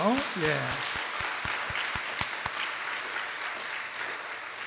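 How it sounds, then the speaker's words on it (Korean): Congregation at a Wednesday church service applauding together in encouragement, a dense clatter of many hands that starts loud and tapers to a steady, softer patter, with a few sharp claps standing out early on. "다시 한번 우리 서로 격려 박수하죠"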